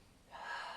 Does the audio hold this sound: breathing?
yes